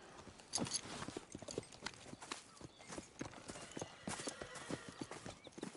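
Steady clip-clop of horse hooves walking at an even pace in the video game Red Dead Redemption 2, with faint ambient sounds around it.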